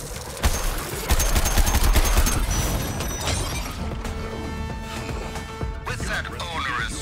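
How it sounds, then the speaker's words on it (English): Rapid gunfire in the Suicide Squad Kills the Justice League video game, dense bursts of shots that fade into mechanical clanks and game effects, with voices speaking over the action. "Guns them all down."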